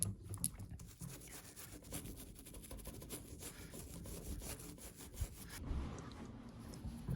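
Close, fine scraping and rubbing as a toothpick works caked dirt out of the metal clasp of a 1990 Seiko A904-5199 digital watch, with steady gritty strokes and a few sharper scratches throughout.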